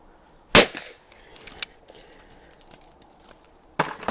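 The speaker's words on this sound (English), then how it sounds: "there is shooting with a 410 just puts a smile on your face" A 410 bore side-by-side shotgun fires one loud, close blast with a short echoing tail, then a few light clicks and handling noises, and a second shot goes off near the end.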